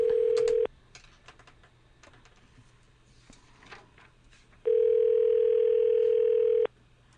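A telephone dial tone sounds on a call-in show line, breaks off into a stretch of scattered tapping and dialing clicks, then comes back steady for about two seconds before cutting out.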